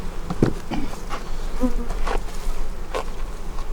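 A dense, steady buzzing of many honeybees close by at a defensive hive in autumn, with individual insects droning past and a few faint knocks in the background.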